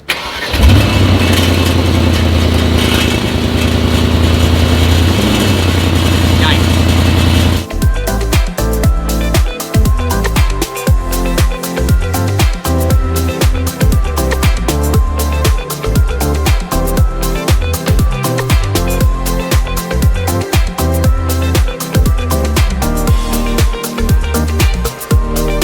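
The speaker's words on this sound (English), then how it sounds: "now I've got a rattling exhaust clamp" A car with a loose exhaust clamp, its bolt and nuts undone, starts up and idles with a close, continuous engine drone, then a dense, irregular metallic rattling chatter over the running engine.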